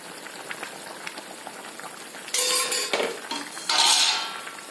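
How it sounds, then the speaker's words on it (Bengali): Zucchini and drumstick vegetables simmer in a pot of rohu fish curry broth, a soft steady bubbling with sudden louder bursts of clatter from the pot. "ফুটতে দেবো যত সময় সবজি না সিদ্ধ হয়ে যায়"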